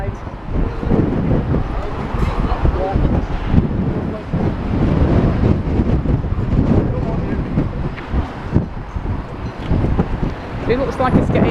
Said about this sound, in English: I am pretty much fed up with this wind